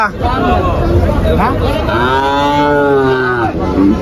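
A cow at the Tepakhola cattle market lets out a long, loud, drawn-out moo close by, with a soft murmur of the crowd behind it.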